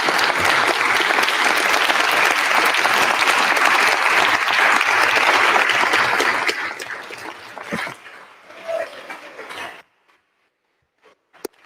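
Sustained applause fills the House chamber, a broad dense wash of clapping from many people that holds steady for several seconds, then thins to scattered claps and stops abruptly into near silence.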